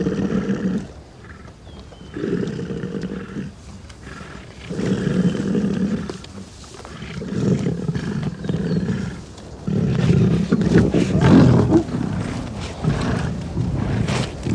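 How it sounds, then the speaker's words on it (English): Male lions in a drought scuffle over a kill with a lioness, with repeated deep growls and snarling roars in bursts, close and loud, separated by brief lulls. "The male in possession fights a lioness off."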